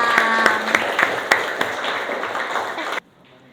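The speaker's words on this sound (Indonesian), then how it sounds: "Tepuk tangan dulu dong untuk kelompok 6." Group applause from a classroom audience for a student group after their presentation, steady and fairly loud with a few sharper claps, running for about three seconds and then cutting off abruptly.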